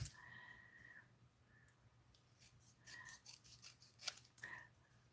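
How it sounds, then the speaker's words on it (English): Scissors snip through paper during card making with stamps, a few short crisp cuts spaced irregularly across quiet, close and fairly faint with light handling noise between. "I'm just cutting with my scissors."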